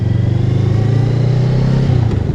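Honda Rebel motorcycle engine while riding, a steady low throbbing rumble with a pulsing beat, close and continuous, with faint wind noise and no talk.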